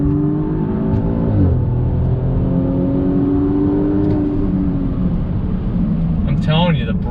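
A 2020 Audi S6 with twin turbos and an electric supercharger pulls along with a steady, loud engine drone and rising revs heard from inside the cabin, with a brief voice near the end.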